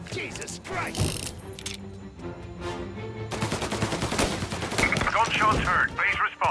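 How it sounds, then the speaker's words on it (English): Gunfire crackles in Mafia: Definitive Edition, bursts of shots and rapid machine-gun fire mixed with car and mechanical noise, with voices shouting over the action. "Gunshots heard. Please respond."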